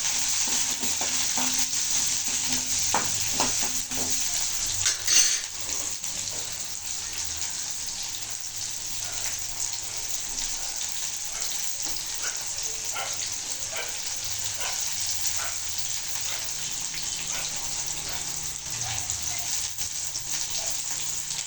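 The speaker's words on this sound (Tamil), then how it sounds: "வெங்காயம் போட்டு நல்லா வதக்கலாம்." Onions sautéing in a pan for a Chettinad fish curry, a continuous crackling sizzle with scattered stirring scrapes and taps, fairly close and steady, no speech.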